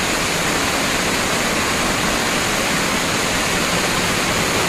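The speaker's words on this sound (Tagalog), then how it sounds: "So amo na yung falls dire." Casile Falls, a waterfall in Negros, roars as an unbroken wash of falling water, loud and close throughout, with no voices over it.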